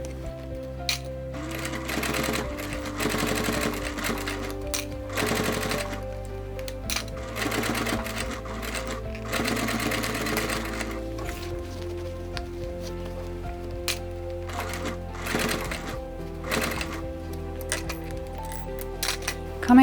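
A hand-cranked sewing machine stitches through tough material, its rapid mechanical clatter running steadily and close for the whole stretch, briefly straining and slowing at harder spots.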